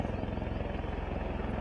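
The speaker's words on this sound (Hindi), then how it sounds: "परमजीत सिंह, जिनका पार्थिव शरीर तरन तारण उनके गृह शहर में ले जाया गया है हेलीकॉप्टर के द्वारा।" A helicopter carrying the body of a fallen soldier to Tarn Taran, its steady rotor thump pulsing loud and close throughout without pause.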